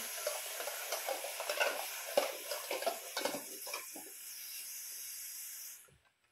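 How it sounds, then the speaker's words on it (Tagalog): A pot of four eggs boiling on a home stove, giving a steady hiss and bubbling with scattered clinks and stirring knocks, fairly close, before the sound cuts off abruptly near the end; no one speaks. "nagpapakulo lang ako ng itlog"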